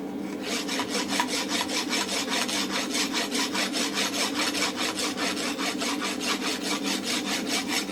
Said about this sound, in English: And as I rotate my hand, it'll rasp it nice and round.